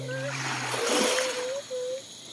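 Splashing water from someone swimming in the sea off Sibuyan Island, Romblon, a broad burst of splatter over steady surf, with tonal voices and a child's chatter nearby.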